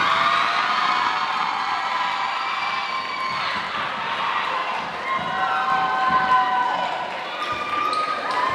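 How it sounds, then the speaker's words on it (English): A crowd at a school homecoming event cheers and claps for the homecoming queen, a dense, sustained roar of applause and shouts with voices mixed in throughout. "Round of applause for our homecoming queen, Charlie Brown."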